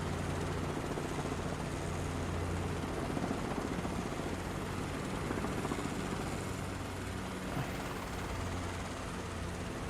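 Helicopter in flight during autorotation practice, heard from inside with a steady loud rotor and engine drone filling the whole clip, a constant broadband roar with low thumping underneath and no talk.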